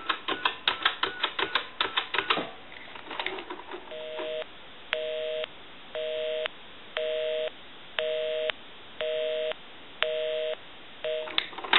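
Rapid mechanical clicks of a number being dialed on a repaired Western Electric rotary telephone, followed by a steady repeating beep-beep busy signal.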